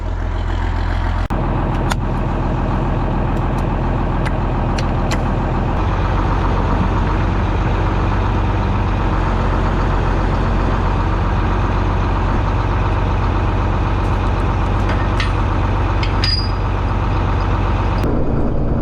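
A John Deere 4640 tractor engine idles steadily before it pulls a chisel plow across a hayfield, giving a loud, continuous low rumble heard close up with occasional clanks and a brief revving toward the end.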